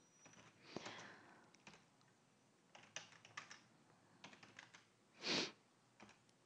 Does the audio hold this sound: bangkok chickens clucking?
no